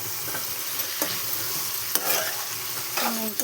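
Salt being stirred into a brinjal and tomato curry in a pan, a soft steady sizzle with a few scraping spoon strokes against the pan, close and alone.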